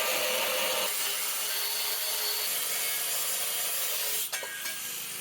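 Galvanized sheet metal is cut for a DIY 2x72 belt sander grinder, producing a loud, steady, harsh hiss of cutting close up that continues without pause and dips briefly near the end.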